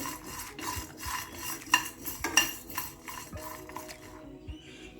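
Urad dal and chana dal frying in a pan, with a steady scraping and clinking of a spoon stirring the lentils against the metal, a few sharper knocks among continuous rasping, close and without talk.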